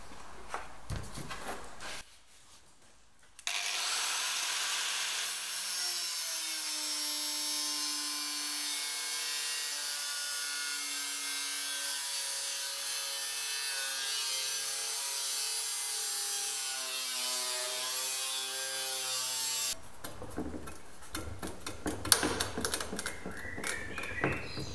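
An angle grinder cuts around the sheet-metal A-pillar of a Mk4 Ford Escort. A steady whining drone holds for about sixteen seconds with slowly shifting pitch, framed by short bursts of clattery workshop handling before and after.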